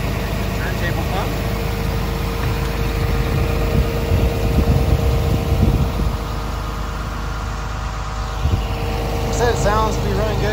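Komatsu PC210LC-10 excavator diesel engine running at a steady idle, a close, constant low rumble that persists while a person talks over it.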